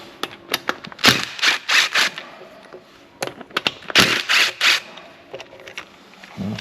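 Removing M10 bolts from the timing chain tensioner and balancer chain of an Audi A5 2.0 TFSI CDNB engine: close ratcheting bursts and sharp metallic clicks in two clusters, with short pauses between them.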